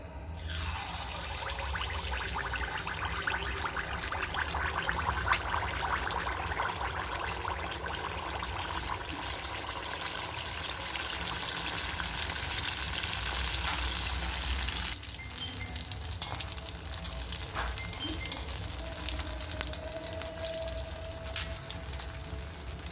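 A ladle of sweet appam batter hits hot oil and fries with a steady, bright sizzle throughout, with a hiss that eases slightly partway through.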